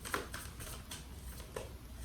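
Tarot cards being shuffled, faint quick papery riffles and soft flicks in a few short bursts, close by but quiet.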